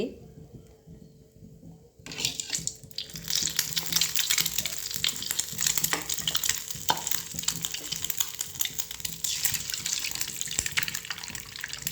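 An egg fries in oil for Maggi egg masala, a dense hiss that starts abruptly after a quiet opening and stays loud and continuous, with occasional sharp clicks of utensils; no one speaks.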